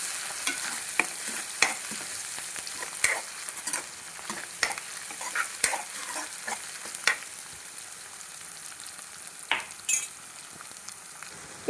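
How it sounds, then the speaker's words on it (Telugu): Ginger mixture stirred in a frying pan while making okra tomato curry, with repeated spoon scrapes and clicks over a steady sizzle, close and alone with no talk. "మనకు అల్లం మొత్తం మిక్స్ అయ్యేదాకా కలుపుకోవాలి."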